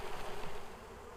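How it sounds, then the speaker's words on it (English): Dense buzzing of honey bees shaken off a hive frame during a winter preparation beekeeping workshop, a steady close drone without talk. "we're going to shake bees in here"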